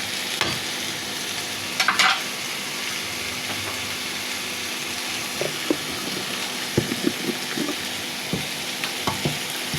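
Eel fish with spice powder, yardlong beans and eggplant is stirred in a frying pan, giving a continuous hissing sizzle with occasional soft scrapes and taps of the spoon, and no one speaking.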